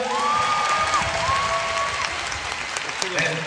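Applause and cheering from a university student crowd after a performance, a steady dense clapping roar with voices calling and shouting over it throughout.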